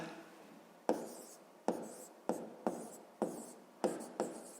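A pen writes an answer on paper while a sixth-grade math exercise is worked out, giving a quiet, close series of about seven scratchy strokes, each starting with a tap and trailing off, with no speech.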